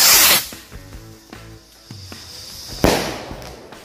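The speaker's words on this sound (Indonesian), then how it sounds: "Jadi sekarang kita cobain mercon roket." A rocket firecracker whooshes off with a loud hissing burst, followed by crackling pops and a second sharp hiss near the end, during Ramadan celebrations.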